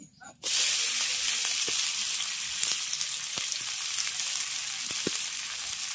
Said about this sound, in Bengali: তেল গরম হয়ে গেলে এর মধ্যে দিয়ে দিচ্ছি 2 বড় সাইজের পেঁয়াজ কুচি।